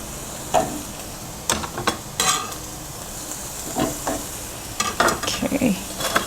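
Zucchini stirred into a pan beside broccoli, sizzling steadily, with intermittent scraping and clacking of a utensil against the pan, close and moderately loud.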